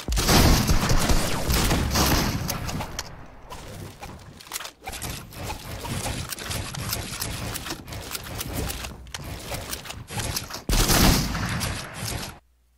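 Shotgun fire in the Fortnite video game comes as loud, close bursts of blasts layered over continuous game noise, with a heavy volley at the start and another shortly before the end.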